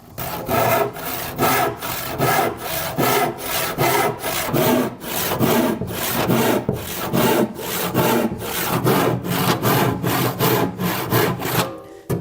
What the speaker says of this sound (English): I'll take a crosscut saw, which is this fine tooth saw, and we'll cut across the grain right on this line